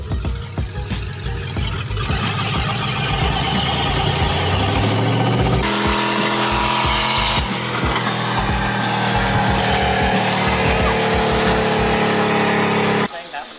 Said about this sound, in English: first gear and romp on it right here